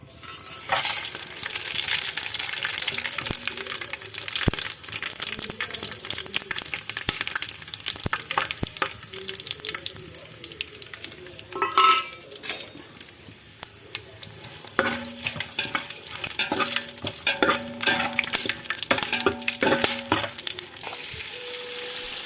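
Onions sizzle and fry in a pot for Kadapa-style village natukodi biryani, with a steady close crackle that is stirred now and then and broken by occasional metal clinks of a spoon against the pot.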